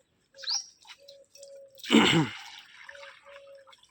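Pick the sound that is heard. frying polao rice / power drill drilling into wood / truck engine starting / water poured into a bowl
water poured into a bowl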